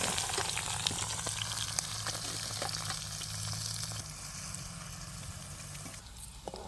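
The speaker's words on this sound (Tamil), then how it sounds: "கத்திரிக்காய் பொரிஞ்சிடுது வடிச்செடுப்போம்" Eggplant deep-frying in hot oil, heard as a steady, close, loud sizzle and bubbling throughout, with no talk.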